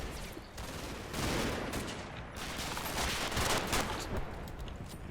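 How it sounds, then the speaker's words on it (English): Sten gun and 20mm cannon fire in the Combat Mission: Battle for Normandy war game, a dense, continuous rattle of overlapping gunfire with bursts rising and falling, filling the whole stretch without voices. "Yeah, Sten gun going off here."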